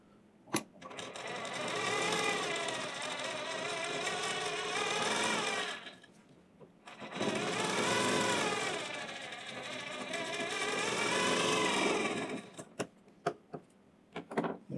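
A sewing machine stitches the neckline of a Sabyasachi-style blouse in two long steady runs of rapid whirring, separated by a short pause, ending with a few sharp clicks.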